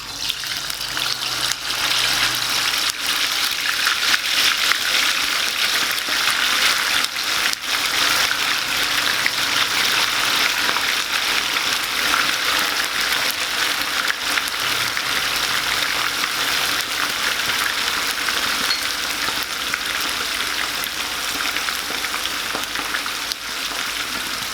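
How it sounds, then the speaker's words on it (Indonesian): Flour-dusted chicken deep-fries submerged in hot oil, giving a loud, continuous dense sizzle and bubbling that holds steady up close for the whole stretch. "Tenggelam ya, digoreng, jadi dia nanti masak matangnya sempurna."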